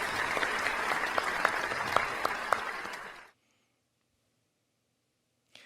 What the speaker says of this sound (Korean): 사랑과 축복의 박수를 보내드려 볼까요?